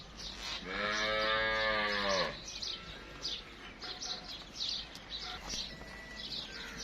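A Friesian-Jersey cross cow gives one loud, drawn-out moo that lasts under two seconds. Faint birds chirp afterward over a low outdoor background.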